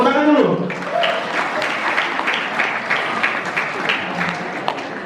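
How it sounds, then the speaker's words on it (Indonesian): An audience at a school event claps together in steady applause, a crowd of hands under a voice that fades out at the start. "Tepuk tangan dulu."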